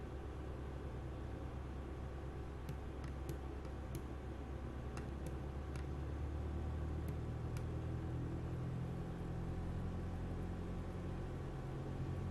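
Steady droning engine rumble of an airplane in Microsoft Flight Simulator 2020, rising slightly in pitch as throttle comes up, with faint ticking clicks over the continuous hum.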